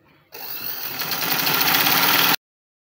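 A sewing machine runs steadily for about two seconds, stitching fabric for a ruched V-neck bubu gown, with a loud, continuous buzzing whir that starts and stops abruptly, close up and alone.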